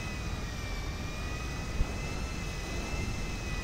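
An airplane engine in the video game GTA V drones continuously in a steady, loud, broadband roar with a faint whine on top and no speech over it.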